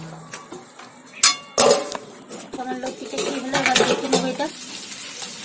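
A lid set down on a pot of chicken with taro stolons and coriander leaves, giving two sharp metallic clanks early on, followed by scraping and clinking kitchen sounds.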